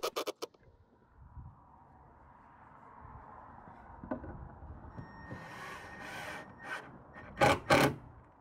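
A power drill drives trim-headed screws through the face of panels in an entryway, with a rising whir of the motor and short bursts of screw-driving near the end, preceded by a few sharp knocks.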